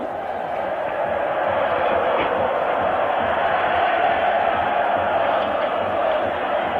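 A loud, constant roar from AS Roma home fans packing a football stadium at a 1983-84 European Cup semi-final against Dundee United, the massed cheering holding steady throughout.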